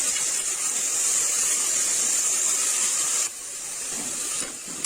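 Ground onion paste dropped into a hot pan for a chicken gravy hisses loudly and steadily, the sizzle easing slightly partway through, with no talking.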